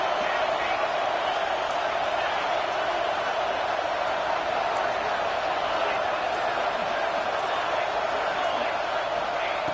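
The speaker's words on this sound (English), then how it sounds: "And here comes the noise. This crowd is trying to inspire this defense to make a big red zone stop." A football stadium crowd at an Oklahoma vs Georgia game roars steadily for the defense near the goal line, a dense, unbroken wall of distant cheering that holds at constant loudness throughout.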